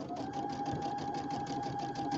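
A sewing machine runs steadily, stitching a fall-themed pillow with a quarter-inch piecing stitch; a fast, even mechanical chatter holds throughout without pause, close and fairly loud.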